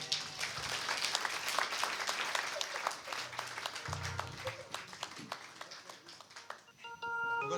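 A live audience at a concert applauds steadily, with dense continuous clapping that fades slightly toward the end as music begins.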